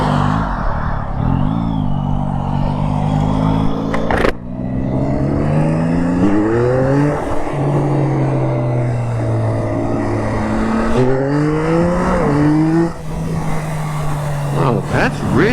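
An automatic motorcycle engine hums steadily while riding, its pitch rising and falling as it shifts on its own, with loud wind rush throughout and a voice talking over it.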